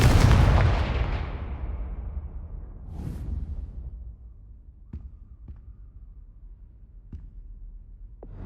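A Confringo fire blast spell from Hogwarts Legacy erupts in a loud, booming burst that rumbles and fades over several seconds, followed by a few faint, sharp clicks against quiet game ambience.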